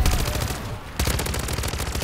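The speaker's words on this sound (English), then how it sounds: "this gun's shredding" Rapid SMG gunfire in Call of Duty MW3 Zombies, a continuous loud burst of automatic shots with a brief dip midway before the firing resumes.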